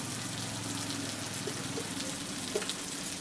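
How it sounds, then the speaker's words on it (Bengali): A little water added to cumin, chili and coriander powders with salt in a hot pan, giving a continuous close hiss and watery sizzle that stays steady for a few seconds, with no talking. "সামান্য একটু জল দিয়ে দিচ্ছি মশলাটা কষানোর জন্য।"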